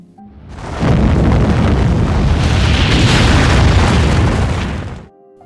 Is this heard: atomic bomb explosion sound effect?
yes